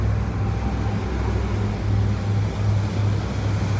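A boat cruises along the Tennessee River, its steady low engine drone and rushing wake water forming a constant, fairly loud wash with no voices.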